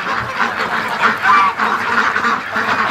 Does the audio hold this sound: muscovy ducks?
yes